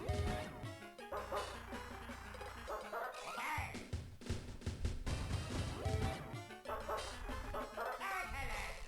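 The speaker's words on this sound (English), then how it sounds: "Why is it barking?" A dog yaps and whimpers in a WarioWare: Pyoro 2 minigame, short repeated barks over busy game music and effects.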